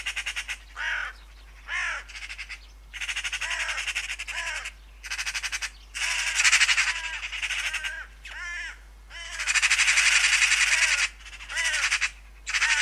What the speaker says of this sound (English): The noise of the magpies and crows around me becomes almost deafening